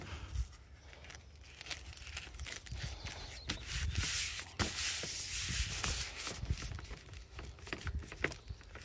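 A Hultafors carpenter's axe edge is worked with a 400 grit sanding pad, making a continuous close, scratchy rubbing that rises and falls in repeated strokes.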